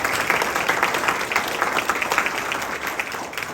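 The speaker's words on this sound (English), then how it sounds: "If y'all give them a round of applause." Audience applause for food service staff at an honors ceremony: dense, steady clapping from a crowd that fills the whole stretch evenly, with no voices rising above it.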